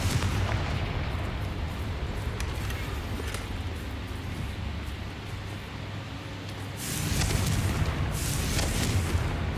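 Repeated booming blasts from a Confringo explosion spell in a video game, a continuous dense rumble of detonations that swells louder toward the end.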